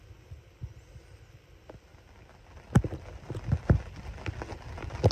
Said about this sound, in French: Et aujourd'hui c'est reparti avec un peu de pluie, un temps un peu orageux.